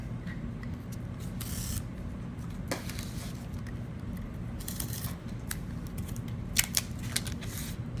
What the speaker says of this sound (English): So I'm cutting right into the new corner that I made.